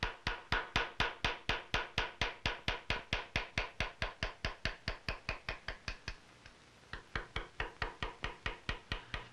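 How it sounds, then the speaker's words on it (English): A round bottom chisel is struck in a steady, rapid run of sharp taps while cutting lobes and leaves into a colonial gun's side plate, close and crisp, with a short pause before the tapping resumes. "A round bottom chisel is used for cutting lobes and leaves."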